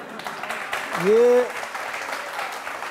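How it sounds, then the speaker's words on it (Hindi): A studio audience claps in welcome at a televised courtroom-style interview show, a steady wash of applause under a voice, with a brief tonal swell partway through. "वो ताली बजाकर आपका स्वागत कर रही है।"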